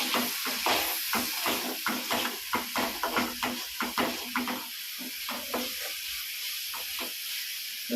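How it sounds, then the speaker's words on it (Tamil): Tamarind water splashes into a hot pan of spiced gravy, giving a steady loud sizzle and hiss broken by rhythmic scraping strokes of a ladle, with no talking. "புளி ஊற்றுறேன்ப்பா."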